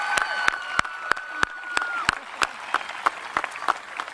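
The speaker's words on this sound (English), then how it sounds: "Terry Simons a round of applause" A graduation audience applauds a retiring librarian, a crowd clapping under a steady series of loud, evenly spaced rhythmic beats with a sustained tonal sound running through.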